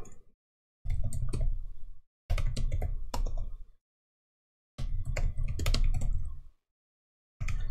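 Chat message typed on a computer keyboard in an Age of Empires II session, several bursts of rapid close key clicks separated by short silent pauses.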